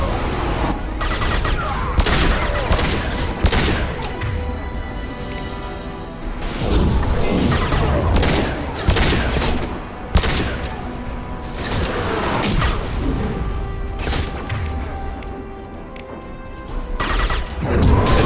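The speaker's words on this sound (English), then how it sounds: "Firing now." Continuous video game gunfire in Mass Effect 2 Legendary Edition during a combat mission, with dense rapid bursts, heavy booms and impacts layered over a steady battle roar that barely lets up.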